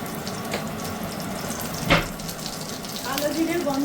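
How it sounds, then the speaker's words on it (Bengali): Green chillies, black cumin and a pinch of asafoetida hit hot oil with a moderate crackling sizzle, marked by one sharp spattering burst partway through before settling into a steady fry. "দুটো কাঁচা লঙ্কা ফোড়ন দিয়ে সামান্য হিং দিয়ে দেবো"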